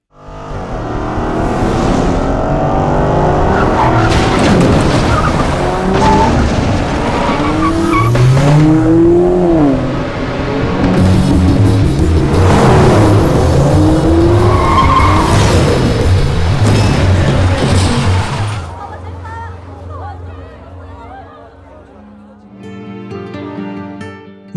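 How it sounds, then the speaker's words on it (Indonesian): A racing car skids hard with loud tire squeal and revving engine, the crash and rollover blending into a dense, continuous roar before fading to quieter rumbles and scattered noises near the end. "Maka selepas mobil pacar Yuni terbalik"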